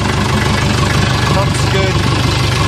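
A 1982 Case 450B crawler dozer engine running at a steady idle, a continuous close, loud diesel rumble throughout with no break.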